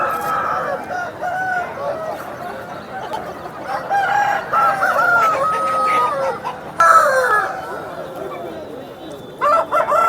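A rooster crows at the Nallapadu cockerel market, loud and close, with several long wavering calls in succession while a voice talks intermittently nearby.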